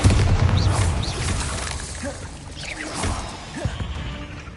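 Bombarda spell blast from Hogwarts Legacy, a booming magical explosion: a heavy low rumble opens, then scattered crackling bursts and debris follow, with a shouted incantation and a second spell nearby.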